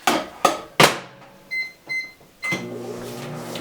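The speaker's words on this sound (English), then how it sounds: "So I am going to put this in the microwave for like 30 seconds." A microwave oven heating shea and cocoa butter: door and button knocks, two short beeps, then the low steady hum of the oven running, close and moderately loud.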